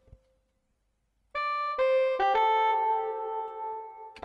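After a faint tone and a pause, a synthesized soft alto saxophone line from the Purity plugin in FL Studio enters with quick repeated notes and settles into a sustained tone, played alone.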